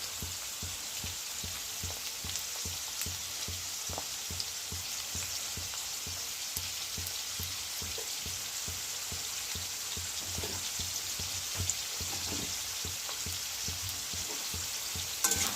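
Potatoes fry in a pan with a constant soft sizzle, and periodic stirring scrapes and taps repeat at a steady pace throughout, fairly quiet and with no talking.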